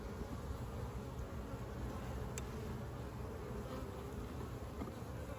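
A soft, steady buzzing hum of many honeybees fanning their wings inside a hive, close and constant, with a few faint clicks and no talking.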